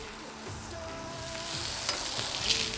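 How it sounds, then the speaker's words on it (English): Potato cakes and sausage pieces sear in a hot pan with a steady close sizzle that grows slightly louder, with a few faint clinks and stirring sounds. "so we can get a nice little quick sear on these potato cakes"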